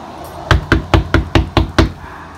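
Knocking on a home's front door: seven sharp, evenly spaced raps in a steady rhythm, close and loud, with no talking.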